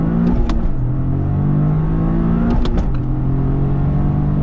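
A sports car engine, from a 2024 Subaru WRX TR or Toyota GR Corolla, revs and pulls hard toward a 7,000 RPM redline, its low drone rising in pitch through a couple of gear changes, loud and steady with no talking.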